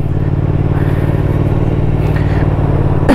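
A 2020 Triumph Tiger 900 Rally Pro motorcycle idles close by with a steady, even low rumble, ending in a short clunk.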